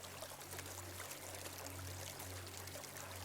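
Faint, steady rush of river water flowing, a continuous pouring wash under a low hum.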